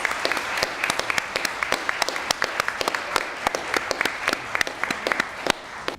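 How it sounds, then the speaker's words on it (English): Audience applause at a PTK and Alpha Sigma Lambda honor society induction ceremony, a mix of sharp individual claps and a softer crowd wash, held steady for several seconds in an indoor hall. "So please give a big round of applause for all of our ASL students."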